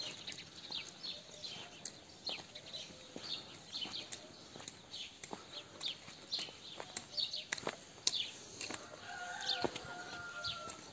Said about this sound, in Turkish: Horuzlar ötüyor.